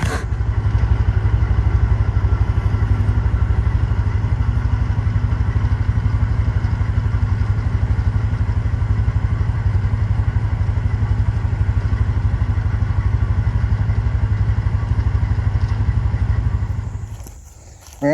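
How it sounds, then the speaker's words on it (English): Engine-driven spreader broadcasting rye grain over a food plot runs at a steady, loud mechanical drone with faint clatter throughout, then cuts off near the end. "there's some in the spreader now. So I'm going to go ahead and spread that out here."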